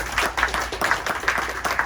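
Audience applause for a lecturer at a talk on the cosmos, a dense, steady patter of many hands clapping, fairly close and continuous without voices.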